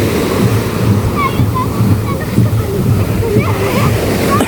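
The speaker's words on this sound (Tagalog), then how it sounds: "Wow, lakas na ng alon." Strong ocean waves at Boracay beach crash and churn in a constant loud roar, close by, with a person talking over the surf.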